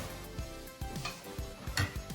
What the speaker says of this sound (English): So we're just going to saute everything together